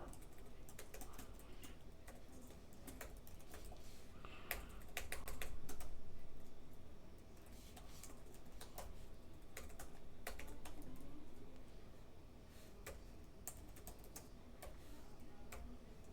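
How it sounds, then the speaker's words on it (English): Someone types code on a computer keyboard: quiet, close, irregular bursts of key clicks with short pauses between them. "I hate actually having to like type in code."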